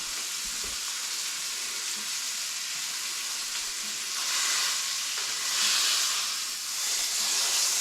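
Roast beef searing in a hot pan gives off a steady, close sizzle with hissing that swells louder in bursts, and no voices.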